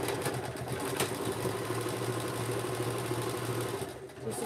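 Sewing machine running steadily at a close distance, a continuous motor whir with a rapid needle rhythm stitching fabric, briefly easing near the end.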